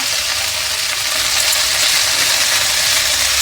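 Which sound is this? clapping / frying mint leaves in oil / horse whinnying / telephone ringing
frying mint leaves in oil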